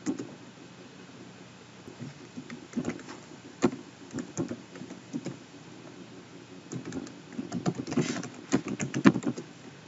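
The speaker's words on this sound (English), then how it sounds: "type the git clone command and your link to download the source code" Someone types a git clone command on a computer keyboard, with irregular clicks and clacks of keys close by, quiet and scattered at first, then growing busier and louder near the end.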